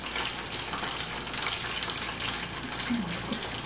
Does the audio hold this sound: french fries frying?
yes